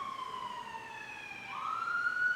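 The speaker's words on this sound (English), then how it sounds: "whatever is going on with those sirens, whatever they're rushing to and rushing from" Emergency vehicle sirens wail outside, a faint rising-and-falling tone that swells slightly as it passes, heard alone without talk.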